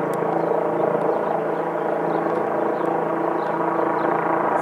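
Steady, droning rotor and engine noise from an aircraft holds constant throughout, like a helicopter hovering in place nearby, with no talking.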